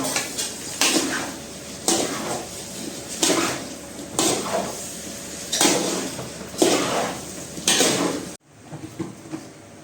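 A spoon scrapes and stirs potatoes with garam masala and kasuri methi in a cooking pan, in regular close strokes about once a second, before falling quiet near the end.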